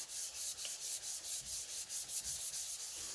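Steady rhythmic rubbing of a sanding block over single-stage white paint on a 1968 Pontiac Firebird body, back-and-forth strokes repeating about every quarter second, close and continuous with no voices.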